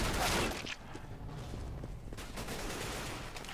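Gunfire in the video game Counter-Strike: Global Offensive, rapid shots and bursts up close, followed by quieter footsteps and weapon handling.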